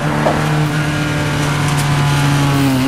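A car accelerates hard on the Anglesey race circuit in North Wales, its engine note loud, close and climbing steadily in pitch throughout.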